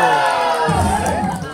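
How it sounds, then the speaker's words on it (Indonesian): A dense crowd of spectators cheers and shouts loudly throughout at a night-time village volleyball tournament match, voices blending into a steady, close roar. "Lagi-lagi sorak-sorai penonton menghiasi pertandingan pada malam hari ini"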